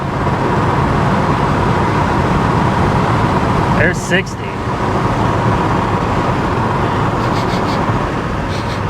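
An older Range Rover that runs and shifts well cruises along a road, with a loud, steady broadband roar of engine and road noise from inside the cabin, a brief clatter partway through, and someone speaking briefly over it.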